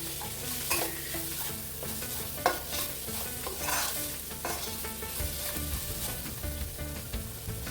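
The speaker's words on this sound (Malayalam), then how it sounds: "ഇതിലേക്ക് ഇഞ്ചിയും വെളുത്തുള്ളിയും കൂടി കറച്ച് വെച്ചിരിക്കുന്നത് ചേർക്കാം നന്നായിട്ടൊന്ന് വലിച്ചു വലിച്ചെടുക്കാം" Ginger-garlic paste sautéed and stirred in a pan for chicken curry gives a steady, close sizzle with spatula scrapes and clinks throughout, and no voices.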